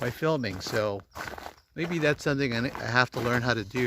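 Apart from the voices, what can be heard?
None of the usual background noises is heard.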